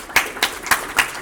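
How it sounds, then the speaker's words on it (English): A small live crowd at a hackathon project launch event claps in a short burst, with several sharp, separate hand claps spaced unevenly over about a second, fairly close and with no talking. "Oh, we're clapping."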